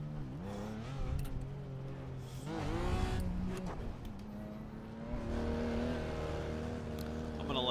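Race car engines in iRacing, several cars revving and rising in pitch as they accelerate past, the whine swelling and fading in waves with occasional tire squeal, while a voice talks over the top.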